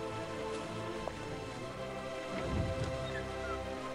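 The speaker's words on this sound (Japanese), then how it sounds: "雨で体が冷えるわ。" Rain falls steadily in the video game Raison d'etre, a faint, even patter beneath soft sustained musical tones, with a few louder low thuds near the end.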